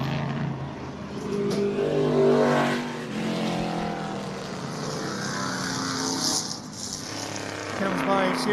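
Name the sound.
vintage race truck engine at speed festival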